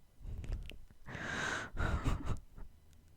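A dog snores in slow, breathy rasps, two long drawn inhalations with softer snuffles around them, close and fairly loud with no talking.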